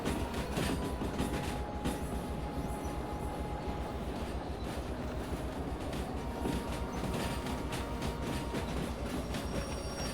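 Train cars roll steadily along the rails in the video game Derail Valley with a continuous rumbling clatter and faint metallic squeals, loud and unbroken throughout.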